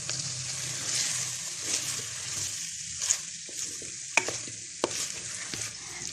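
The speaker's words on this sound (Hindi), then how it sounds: "चिकन को इसी मसाले के साथ ये प्याज अदरक और हरी मिर्च लहसुन के साथ अच्छे से हमने फ्राई करना है" About half a kilo of chicken fries in a pan with masala, onion, ginger, green chili and garlic, sizzling steadily while a spoon stirs and scrapes with a few sharp knocks against the pan, close up.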